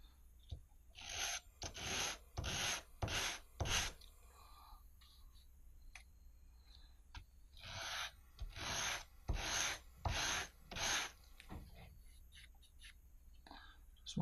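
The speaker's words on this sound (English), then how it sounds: "Leave the sandpaper down, and I'll just drag my fins across it." Model rocket fins for a Loadstar 2 build are rubbed flat on sandpaper in five close, distinct rasping pulls, then a few more separate scrapes, with faint quiet talk between strokes.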